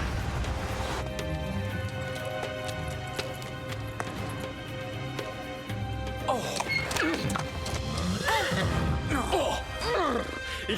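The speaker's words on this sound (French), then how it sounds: "ce sont les chevaux d'Inès et Bernardo" Horses in an animated Zorro adventure neigh and whinny while hooves clatter in a quick, uneven run, set against a dense orchestral-sounding background that grows busier and louder in the second half.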